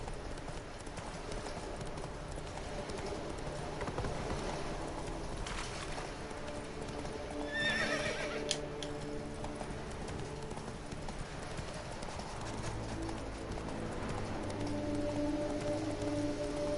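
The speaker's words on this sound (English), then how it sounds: "Riding a horse while drunk." Steady rhythmic clip-clop of horse hooves galloping in the video game The Witcher 3, continuous and fairly close, with a faint bird call midway and no talking.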